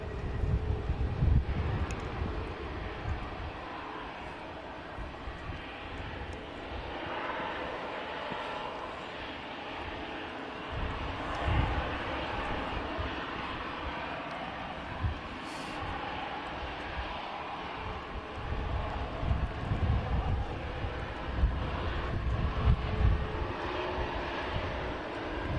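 Airplane rolling along an airport runway, a steady, distant engine roar and rumble with wind noise that swells and fades over a long stretch.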